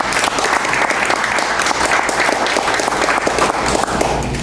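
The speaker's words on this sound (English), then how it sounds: "So how about a round of applause for the late great Jeff Duperon." Audience applause as a tribute to a late radio personality, dense steady clapping filling the room for several seconds with no talk over it.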